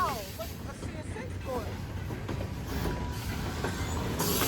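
Steel coil gondolas at the rear of a Norfolk Southern freight train rumble past with clicking wheels and a faint squeal, while a voice talks over the passing cars.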